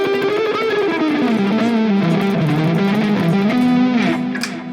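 Distorted electric guitar lead from a Marshall amp model on a Nux MG-30 multi-effects unit, with the bias cranked: a sustained, singing melodic line played alone, loud and steady, ending with a brief pick scrape.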